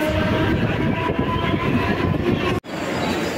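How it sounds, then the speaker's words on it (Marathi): A local train arrives at Kopar station near Mumbai with a loud, steady rumble and rattle of carriages, close by and continuous, briefly cut off near the end. "तर सध्या ट्रेन येत आहे."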